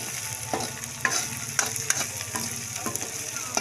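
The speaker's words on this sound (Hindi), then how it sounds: "इसे अच्छी तरह फ्राई कर लें" Masala fries in a pan with okra while a spoon stirs it, close sizzling punctuated by repeated sharp scrapes and clacks at a quick, uneven rhythm.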